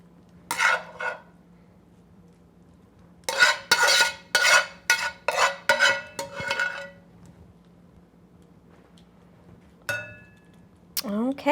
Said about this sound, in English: let's get this spinach into our baking dishes